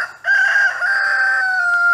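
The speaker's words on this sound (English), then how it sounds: "These chickens are screaming at me" A rooster crows loudly and close by in one long, sustained call, with chickens clucking faintly around it at a rural spot.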